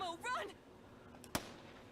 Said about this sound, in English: A gunshot.